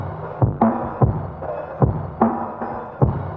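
Percussion from the original track in a remix: punchy drum hits land every half second or so over a steady tonal music bed.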